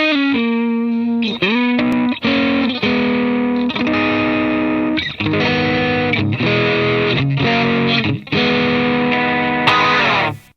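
Electric guitar through an Ibanez Tube Screamer overdrive pedal, played on a Strat-style guitar with single-coil pickups in position four, giving a loud, driven tone as sustained chords ring and change every second or so, alone without talk.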